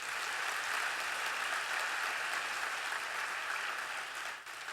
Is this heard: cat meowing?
no